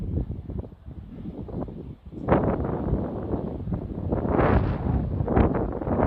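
Steady gusting wind roars across the microphone on a mountain pass, swelling and dipping in strength, loud and close with no voices.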